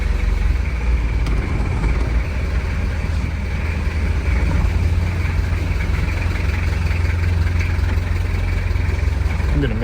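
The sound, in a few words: Ford B250 van engine idling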